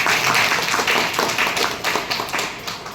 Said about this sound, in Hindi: मैं चाहता हूं उनके लिए एक जोरदार ताली।